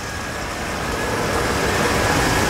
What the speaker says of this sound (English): Really wonderful running motor.